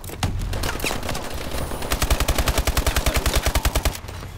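Rapid automatic gunfire from the online shooter Warface, a loud burst of evenly spaced shots following scattered single reports and game noise, with no talking.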